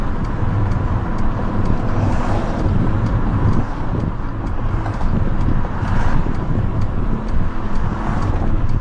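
A car cruises down Bayview Avenue. Road and engine noise stays steady and loud throughout, with wind rushing past and a faint regular ticking.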